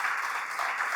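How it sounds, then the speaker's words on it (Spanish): Congregation applauding during a Spanish-language church worship service, a steady dense wash of clapping held at an even level through the short moment, with no voices standing out. "Podemos darle un aplauso al Señor."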